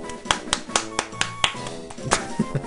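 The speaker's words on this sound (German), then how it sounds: "Ist ein Applaus?" Sparse, uneven claps and taps of applause in the video game Pokémon Ruby ring out sharply, about a dozen hits spread irregularly, sounding like a small scattered applause.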